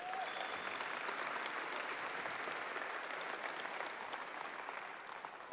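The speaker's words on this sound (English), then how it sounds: "Let's give them a round of applause." Dense, continuous applause from an awards ceremony audience honoring artists, a soft wash of many hands clapping at an even level before easing slightly at the close.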